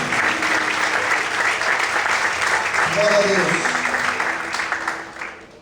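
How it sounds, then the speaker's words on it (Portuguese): Loud congregational applause in a church sustains for several seconds, then tapers off toward the end; a voice briefly calls out over the clapping. "Vamos aplaudir ao Senhor muito forte."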